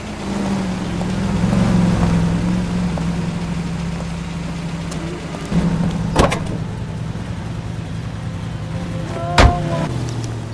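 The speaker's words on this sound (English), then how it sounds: "We're on the move again, Cole. After her. Don't lose that cab" A car drives while tailing a cab in the video game L.A. Noire, its engine hum rising and falling at moderate level, with a couple of sharp clunks and brief mechanical bursts along the way.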